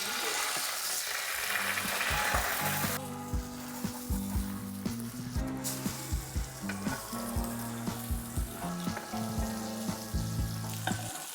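Fish skin frying in butter in a hot pan, a steady close sizzle with crackling spatter, overlaid by rhythmic tapping and clinking that suggest basting or handling in the pan.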